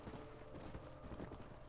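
Horse hooves clip-clop at a steady gait in the Red Dead Redemption video game, faint and continuous under a busy, noisy game background.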